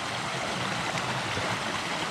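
Mountain brook rushing over rocks at a trail crossing on Reel Brook Trail, a steady, close, full-bodied wash of flowing water that holds even throughout, with no voices.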